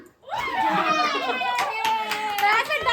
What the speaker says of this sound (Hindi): ताली बजाओ ताली बजाओ